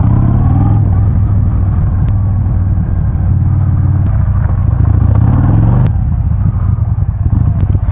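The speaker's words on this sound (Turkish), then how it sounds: "Bu da bizim müdürün motosikleti." A black Bajaj Dominar motorcycle rumbles past close by in loud street traffic, its engine note rising and falling over a constant road roar.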